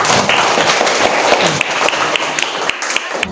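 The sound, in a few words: applause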